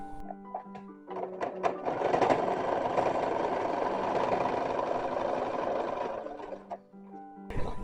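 A sewing machine runs steadily for about five seconds while stitching the shoulder seam of a copied 1920s–1930s style dress, a continuous close whirring buzz that starts after a few brief taps and stops cleanly.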